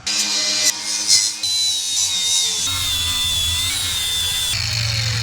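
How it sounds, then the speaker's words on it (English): A power tool cleans the base metal of a steel flat strap on a broken trailer frame before welding. It gives a loud, steady whirring grind that runs for the whole stretch, with a thin high whine and brief surges near the start. "Now I'm going to clean the base metal of the weld on the flat strap."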